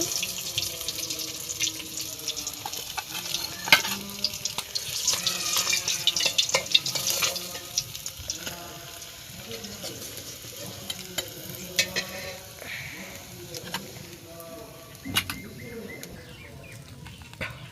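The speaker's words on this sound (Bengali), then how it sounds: "আমি মাছের সঙ্গে ভেজে নেব বেগুন, তাই বেগুনটা তেলের ভিতরে দিয়ে দিতেছি।" Fish and eggplant frying in hot cooking oil, a soft crackling sizzle under intermittent clinks and stirring sounds in a home kitchen.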